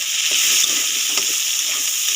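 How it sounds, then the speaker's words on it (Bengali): Chopped tomato stirred into frying chicken, potato and onion in hot oil, a continuous close sizzle and hiss with a few soft scraping stirs underneath. "টমেটো দিয়ে আমি একটু নেড়ে নিলাম।"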